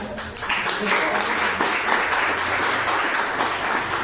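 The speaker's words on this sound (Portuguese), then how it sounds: "As palmas bem fortes para Jesus." A church congregation claps during a sermon, a sustained, fairly close round of applause with voices mixed in around it.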